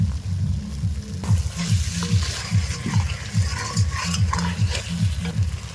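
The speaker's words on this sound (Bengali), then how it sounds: "পটলগুলো দিয়ে দিলাম মশলার সাথে এবার আর একটু ভালো করে কষিয়ে নেব" Pointed gourd fries in a pan with spices and cashew paste, a steady close sizzle under rhythmic scraping strokes of a spatula stirring the mixture, with no talk.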